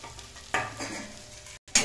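Potatoes stirred with tomato sauce in a hot pan: a sizzling, scraping stir starts abruptly, runs for about a second, then after a brief gap a second stroke begins, close and fairly loud.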